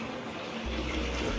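Water poured into a cooking pot while making a home-style fish curry with potatoes: a soft steady hiss swells into a fuller, louder gush of liquid partway through, with no talking.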